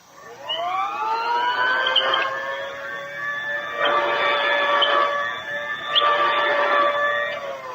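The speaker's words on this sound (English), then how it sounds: "The machine would be passing back and forth over a rug." An old-style vacuum sweeper whines as it passes back and forth over a rug, its motor pitch rising at the start and then swelling and easing in repeated rhythmic surges, close and loud with no talking.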